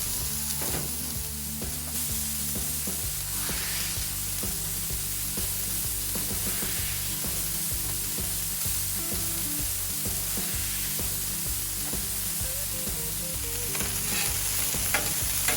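Smash burger patties sizzling on a Blackstone griddle, a loud, steady, close hiss of frying fat with faint crackles throughout, no talking.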